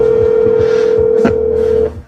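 A telephone on a call gives a loud, steady single tone that holds for nearly two seconds and then cuts off, with a faint click partway through.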